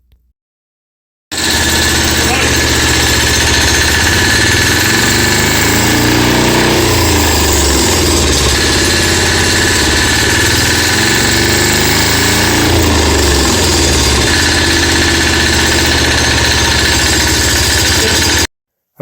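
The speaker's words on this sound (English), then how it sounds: "I had a L48 Yanmar laying around too that I just got running" A Yanmar L48 diesel engine mounted on a drift trike with a torque converter, starting abruptly and running with a loud, steady, rough clattering thrum close by until it cuts off near the end.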